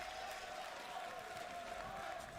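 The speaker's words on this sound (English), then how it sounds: "you hear this crowd. It is absolutely electrifying in here" Arena crowd at The International 2022 Dota 2 event, a steady wash of cheering and applause filling the hall throughout, loud and unbroken with no single voice standing out.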